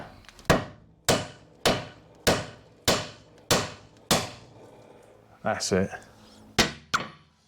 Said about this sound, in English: But I'll just give this a tap and see if it comes out.